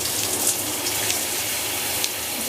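A Dream Spa four-setting LED shower head sprays water in a steady, dense hiss, loud and close, constant throughout with no voices.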